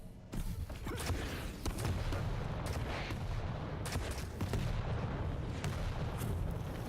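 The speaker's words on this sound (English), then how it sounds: "More rockets coming out though." Rocket launcher fire in a Quake Champions tournament match sounds as a rapid series of sharp booming blasts and explosions, loud and close over a dense continuous game din.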